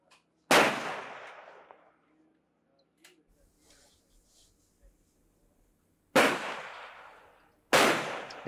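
Three loud, sharp gunshots ring out at a shooting competition, one early and two close together near the end, each with a decaying echo, separated by quiet stretches with faint background voices.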